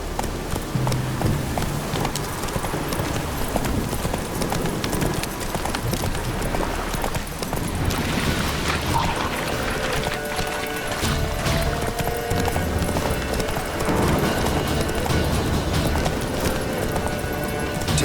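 Hooves clip-clop in a fast, steady galloping rhythm throughout as the horse Roach runs in The Witcher 3, loud and close, with no talking.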